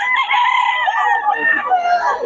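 A stag, a young gamecock, crows loudly and close in one drawn-out call, with a voice talking around it.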